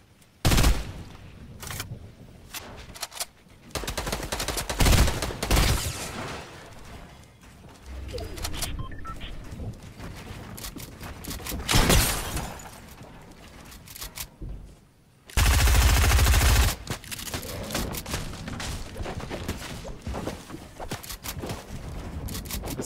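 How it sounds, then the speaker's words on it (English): Rapid bursts of automatic gunfire in the video game Fortnite, with repeated loud volleys and scattered single shots over a busy game soundscape, including a dense, loud stretch near the end. "Guy's getting shot."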